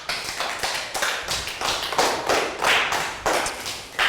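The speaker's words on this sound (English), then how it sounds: "Round of applause for down, please." A small group of Year 3 pupils claps in uneven bursts during a maths lesson, sharp close hand claps repeating for several seconds without talk.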